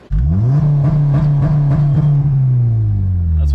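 A Honda engine tuned with Hondata sits loud and close against a two-step rev limiter, producing a sustained high buzzing drone chopped by rapid ignition-cut stutters for several seconds before dropping off.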